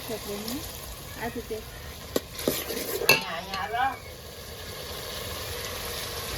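A spoon stirring food in a pan over a very low gas flame, with scraping strokes and clinks in the first half, then a quiet steady sizzle; no speech is heard.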